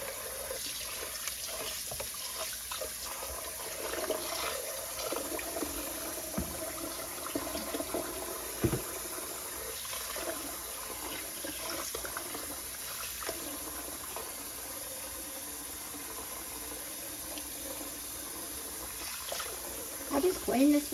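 Warm water runs steadily into a stoppered kitchen sink for a long stretch as bleach and Dawn dish soap are added, a constant hissing flow with occasional clinks and faint talking in the background.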